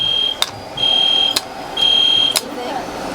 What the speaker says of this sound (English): there's like a fire alarm going off in there.